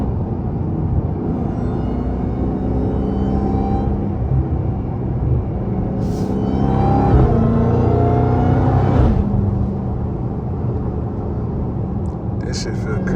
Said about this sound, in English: See if I can give y'all some good downshifts.